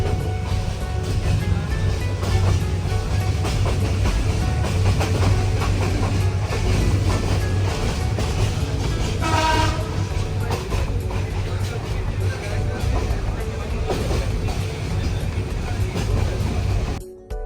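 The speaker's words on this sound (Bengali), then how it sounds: "সিলেট রেল স্টেশন থেকে ঢাকার উদ্দেশ্যে আমাদের ট্রেনটি ছেড়ে গেল।" Upaban Express train pulling out of Sylhet railway station bound for Dhaka, a steady loud rumble with rhythmic clattering of carriages throughout, continuous and close, with faint voices mixed in.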